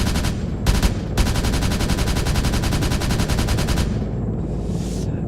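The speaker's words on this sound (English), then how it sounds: "It has the Gatling gun, the 20mm Gatling gun with high explosive rounds." 20mm Gatling gun firing high explosive rounds in the video game Arma 3, a loud, dense, buzzing burst of very rapid fire with a short break early on, then a sustained roar that stops and fades into distant rumble.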